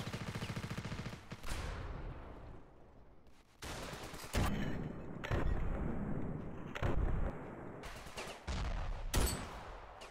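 Mark 5 gun firing in a video game: repeated sharp loud bursts of gunfire in clusters, separated by brief quieter gaps.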